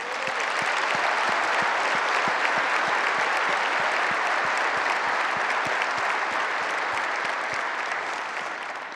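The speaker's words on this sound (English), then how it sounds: "I'd like for everybody to give a big round of applause for them." A large audience at a corporate technology conference general session in Las Vegas gives a dense, sustained round of applause, loud and even throughout with rhythmic clapping within it, alone without talk.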